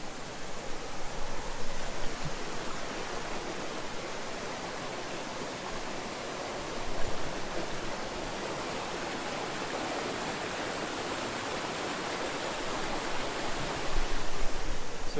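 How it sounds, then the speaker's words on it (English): A waterfall in the Lake District at the foot of a steep incline gives a steady, dense broadband rush of falling water with no voices, holding an even roar throughout with slight swells. "So I've just come up down a bit of a steep incline to the bottom of the waterfall."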